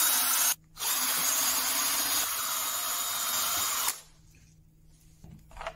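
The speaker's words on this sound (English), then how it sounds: "So I'm just going to drill these 3 holes." A power drill whirs loudly in two bursts, a short one then a long steady run, drilling holes during a camera restoration, before cutting off into quiet with faint handling sounds.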